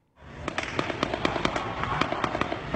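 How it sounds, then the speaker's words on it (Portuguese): Rapid gunfire in an exchange of shots in Cidade de Deus, Rio de Janeiro, comes as a dense run of sharp cracks, roughly evenly spaced, over a continuous roar, fairly loud and without voices. "Moradores da Cidade de Deus, na Zona Oeste, enfrentaram mais uma manhã com trocas de tiros."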